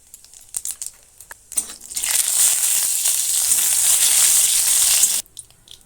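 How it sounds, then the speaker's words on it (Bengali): Nigella and radhuni seeds hit hot mustard oil in a kadai, bursting into a loud, steady crackling sizzle for a few seconds after some light clatter, then cutting off. "তেলটা গরম হলে দিয়ে দিচ্ছি অল্প একটু কালো জিরে আর অল্প একটু রাঁধুনি"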